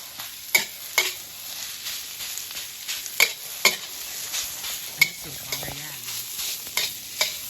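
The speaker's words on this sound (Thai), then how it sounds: "อันนี้ผัดข้าว ผัดดีนะครับมันไม่ค่อยติดกระทะ" A metal spatula scrapes and clacks against a wok every second or so while food sizzles steadily as rice is stir-fried.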